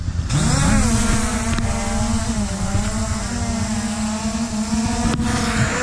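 Motors of an SJRC F11S 4K Pro drone spool up, a loud, close, whining buzz that climbs in pitch within the first second and then holds a steady, slightly wavering hum.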